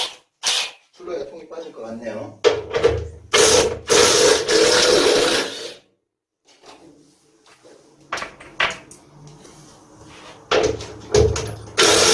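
A hand ratchet clicks in short bursts while 10mm hex-head bolts are loosened on an eight-year-old washing machine, close up with pauses between runs, and a person talks in between.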